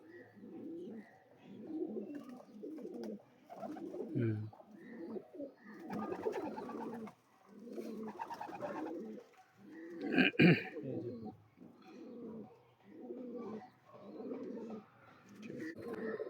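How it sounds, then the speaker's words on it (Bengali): Domestic pigeons, a breeding pair of fancy show birds, coo repeatedly in a steady rhythmic series of low throaty calls close by, with a brief louder flutter or squawk near the middle. "আমার বাড়ির শ্রীলঙ্কা এক জোড়া ধারি পেয়ার দেখুন, কত সুন্দর সেট পেয়ার।"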